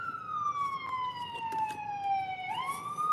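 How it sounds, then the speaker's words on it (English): A police siren wails in the distance, one steady falling tone that sweeps back up near the end, sounding faint and far-off over low background noise. "I'm hearing sirens"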